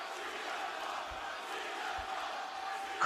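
A live WWE Raw wrestling crowd in an arena roars and cheers in a steady continuous wash, heard faint and distant as if through a broadcast.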